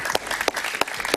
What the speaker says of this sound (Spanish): Un gran aplauso para Luis Yusti